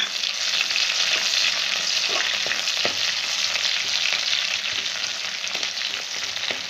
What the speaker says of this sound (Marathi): आता याच्यामध्ये शिरून घेतलेली मिरची आहे ती मिरची परतून घ्यायची